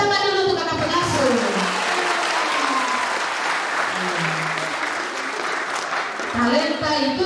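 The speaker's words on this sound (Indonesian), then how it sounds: "Tepuk tangan dulu untuk kakak pengasuh." Sustained applause from a crowd at an Easter youth church camp, dense steady clapping filling the whole stretch, with a voice speaking over it near the start and end.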